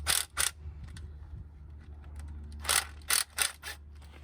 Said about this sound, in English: So I'm going to loosen this side just a little bit.